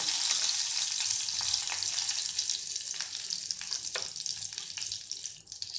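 Asafoetida and chili pieces frying in hot oil, a continuous bright crackling sizzle close by that fades slightly at the end.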